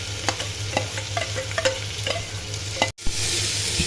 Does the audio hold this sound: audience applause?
no